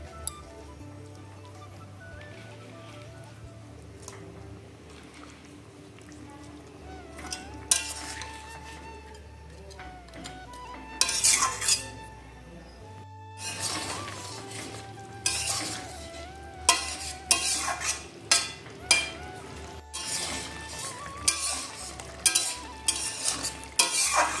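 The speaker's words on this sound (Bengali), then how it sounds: "এবারে আগে থেকে ভেজে রাখা এই ভোলা মাছগুলো দিয়ে দেব।" Pre-fried bhola fish added to a sizzling pan of eggplant curry and stirred: steady frying hiss under repeated scraping and clinking of a spatula against the pan, with irregular bursts of louder stirring.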